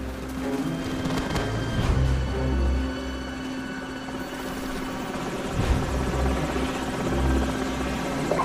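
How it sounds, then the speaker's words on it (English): Enemy helicopter rotors in Call of Duty: Modern Warfare thump and whir in the distance, a steady chopping drone with a few sharper bursts, no talking. "Enemy helicopters."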